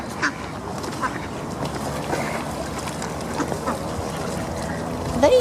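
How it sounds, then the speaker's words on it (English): Ducks quacking near a boat while being fed, repeated nasal calls scattered through a busy outdoor scene of water and movement, with people talking nearby. "Are you Floyd the duck?"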